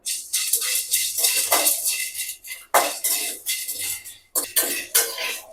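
Whole spices dry-roasting in a pan with no oil, stirred for a garlic and onion thokku: repeated scraping and clinking of a spoon against the metal pan in uneven bursts, close and fairly loud, with no talking.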